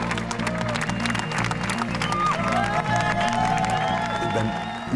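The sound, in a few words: audience applauding the technicians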